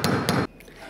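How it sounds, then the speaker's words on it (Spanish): Two sharp, loud hammer blows strike close by, driving a whittled wooden stick through a nut to size it for a wooden bicycle-style chain; quiet follows. "con un martillo voy a pasarlo por la tuerca para estandarizarlo"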